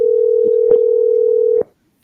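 A steady telephone dial tone hums alone for about a second and a half while a call is dialed by hand, broken by faint clicks before cutting off abruptly into silence.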